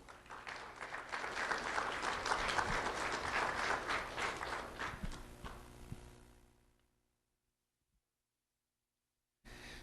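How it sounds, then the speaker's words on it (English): Audience at a sheriff's office recognition ceremony giving a round of applause for a middle school student, steady clapping that swells, then fades out into silence before a brief return of room sound. "Let's have a round of applause for Raul Parnell."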